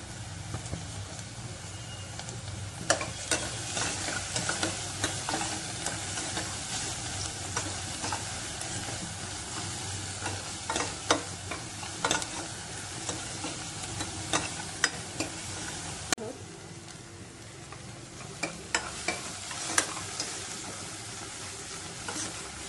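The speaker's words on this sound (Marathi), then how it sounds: "कांदा छान परतू द्यायचा आहे।" Onion with salt sautéing in a pan for rassa poha gives a constant soft sizzle under frequent scraping strokes of a spoon, with scattered sharp knocks against the pan throughout.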